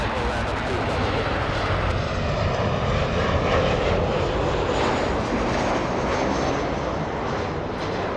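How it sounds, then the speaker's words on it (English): Southwest Airlines jet landing on runway 24 right at LAX, inbound from Austin, Texas: a steady, loud broadband engine roar that holds throughout, with a voice talking over it. "Southwest Airlines flying in from Austin, Texas."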